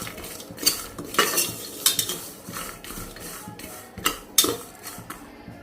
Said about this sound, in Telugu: ఈ విధంగా ఆయిల్ అది ఇది ఏం వేయకుండానే ఇట్లా ఊరికనే వేయించుకోవాలి ఇవి.